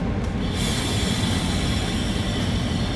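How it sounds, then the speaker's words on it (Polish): A PKP EP07 electric locomotive pulls away with the TLK Rozewie passenger train, a steady loud rumble of wheels and carriages rolling past close by, continuous throughout with no talking. "Przed nami EP07 ze, 1034. ze składem TLK Rozewie odjeżdża."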